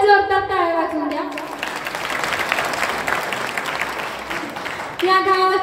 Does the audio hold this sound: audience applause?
yes